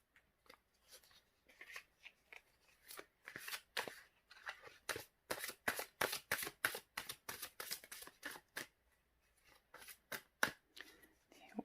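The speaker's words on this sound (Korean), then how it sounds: "추가 카드를 한 장 더 뽑아 보도록 하겠습니다" Tarot cards being shuffled by hand, close and crisp, with quick riffles and slaps in bursts that speed into a rapid run, pause, then resume.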